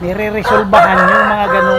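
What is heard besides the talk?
chicken crowing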